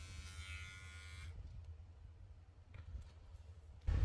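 A Kemei KM1910 electric shaver runs with a steady high buzz for about a second, then switches off, leaving quiet handling noise and a brief clunk at the end.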